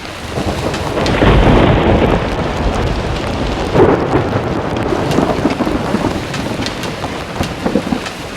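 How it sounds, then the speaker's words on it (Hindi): Heavy rain pours down steadily on a mountain hike to Kedarnath while thunder rumbles loudly through it, swelling in a couple of deep rolls. "बारिश कम होने का नाम ही नहीं ले रही।"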